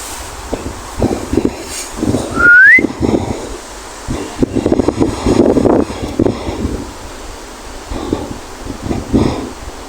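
One short rising whistle from a person, clear but brief, cuts through steady wind noise and rustling outdoors at a cemetery.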